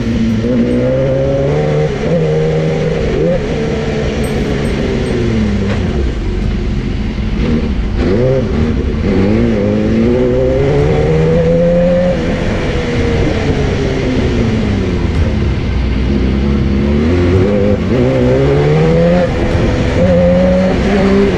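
A BMW S1000RR drag race motorcycle, tuned past its factory 200 horsepower and run without traction control, roars loud and close, its engine pitch rising and falling in repeated revving sweeps throughout.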